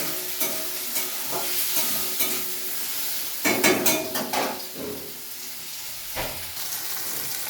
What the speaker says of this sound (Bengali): কুচিয়ে রাখা টমেটোগুলোকেও দিয়ে আবার একটু ভেজে নেবো টমেটোগুলো যতক্ষণ না নরম হয় আমি ততক্ষণই একটু ভাজব